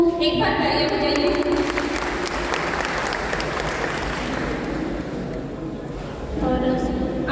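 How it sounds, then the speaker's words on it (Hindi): Audience clapping at a poetry event, a dense round of applause from a crowd that rises over a voice and then gives way to a speaker talking again at the end. "एक बार तालियां बजाइए।"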